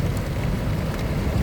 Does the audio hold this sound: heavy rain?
yes